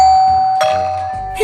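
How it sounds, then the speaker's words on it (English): A doorbell chimes a clear two-tone ding-dong, followed by another ring moments later, with a quiet room around it. "the doorbell rang"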